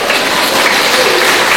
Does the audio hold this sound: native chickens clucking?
no